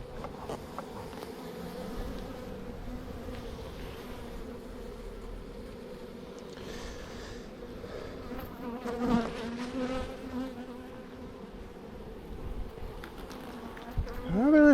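Honeybees hum in a hive as they are moved from a swarm trap, a close, continuous buzzing drone with individual bees passing near and some handling noise toward the end.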